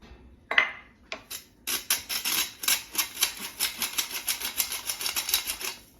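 A handheld sifter cranked over a bowl while half a cup of sugar is sifted in for pone bread, giving a steady run of quick, crisp, evenly spaced scraping clicks, close and fairly loud, with no talking.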